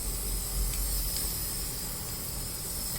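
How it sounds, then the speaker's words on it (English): Spray paint hisses steadily onto a car tire while rims are being painted, a close, continuous aerosol spray. "You're probably wondering why I'm spraying it on the tire."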